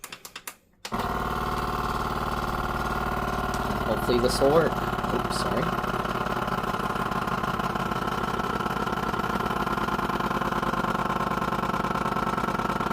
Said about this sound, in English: Let's go ahead and vacuum it up.